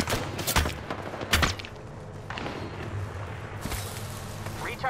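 Apex Legends gunfire crackles in rapid bursts, with several sharp loud volleys early on followed by lighter scattered shots and rattling under continuous game noise.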